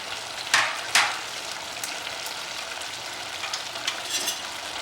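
Two onions frying in a pan for a light chicken curry gravy, a continuous close sizzle with two sharp stirring clatters early on and softer scrapes near the end, no voices.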